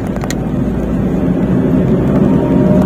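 A Toyota car engine runs steadily under load while climbing a hill, a continuous low hum and rumble heard close up with no talking over it.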